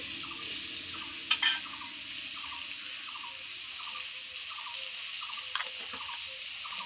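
Mango pieces frying in hot oil with salt and turmeric, a steady close sizzle with repeated light clinks and scrapes of a spatula stirring in the pan, no voices.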